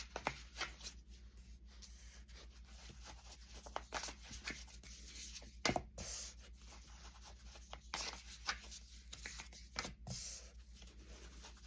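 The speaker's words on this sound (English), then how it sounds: "I'm going to pull a couple tarot cards here." Tarot cards are drawn and handled, giving soft close rubs, slides and paper flicks in an irregular scatter over a quiet background, with a couple of sharper snaps along the way.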